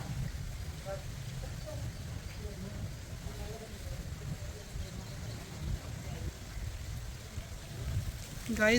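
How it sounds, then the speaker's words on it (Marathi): Light rain falling steadily outdoors near a terrace, a soft continuous hiss of drops that holds even and fairly faint throughout, with no clear voices over it. "पाऊस थोडा स्लो झालाय थोडासा"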